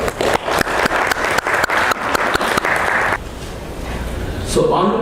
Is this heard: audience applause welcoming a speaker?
yes